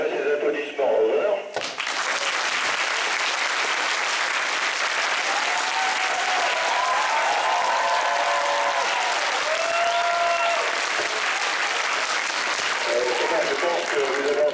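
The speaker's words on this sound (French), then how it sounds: "Je voudrais que le public ici présent vous adresse ses applaudissements." An audience applauds astronaut Thomas, a broad sustained wash of clapping that swells and holds for many seconds after a brief opening moment of a voice and radio-link noise, with faint tonal sounds drifting through it.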